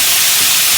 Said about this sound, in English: Now you want to hit this with some lime sizzle. You'll hear it start to sizzle.